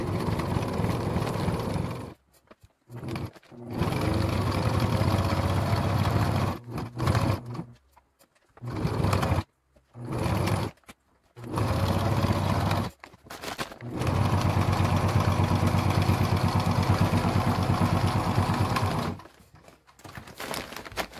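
A sewing machine runs in several start-stop bursts while stitching a bar tack on a fabric food bag, each a steady mechanical hum broken by short silences.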